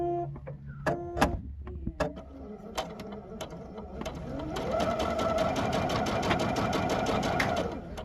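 A Bernette b70 sewing and embroidery machine: a few separate mechanical clicks and clunks, then a steady, fast motor whir with a rapid needle rhythm running for several seconds, close and fairly loud, no talking.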